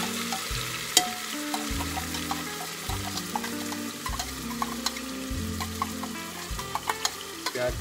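Ginger and onion frying in a pan for a Himachali jackfruit dish, a steady sizzle with the rhythmic scrape and clatter of stirring throughout, close and fairly loud.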